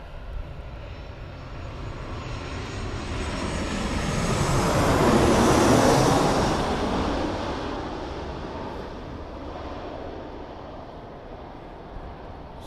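Boeing 737-800 jet at Birmingham Airport roars past, its engine noise swelling from a distant whine to a loud peak mid-way and then fading again.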